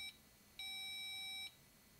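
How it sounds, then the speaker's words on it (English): A homemade electronics wire loop game gives off a steady high electronic beep when the loop touches the wire, sounding briefly, then again for about a second, clean and faint. "So if we touch the loop, we get that beep."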